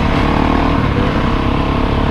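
Two-stroke motorcycle engine idling at low revs, a dense crackling, popping rumble that is loud and close and holds steady throughout with no voices over it.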